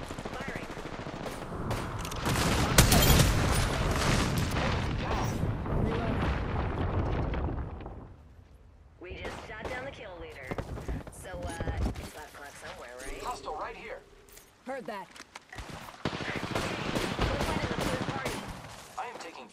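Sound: gunfire in the video game Apex Legends

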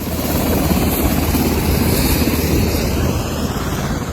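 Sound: Philippine Air Force Black Hawk helicopter landing

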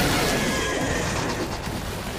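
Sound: infected horse neighing in video game Stellar Blade

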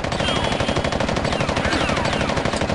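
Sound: gunfire in the video game Fighting Force

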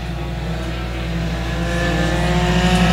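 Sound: dirt track race cars racing down the back straightaway

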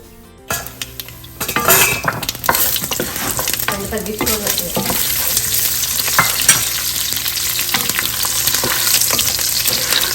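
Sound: tempering urad and chana dal frying in oil

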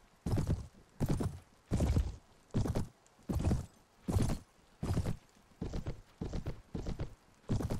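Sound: horse hooves galloping in video game Mount & Blade

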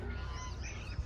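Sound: pigeons calling outdoors

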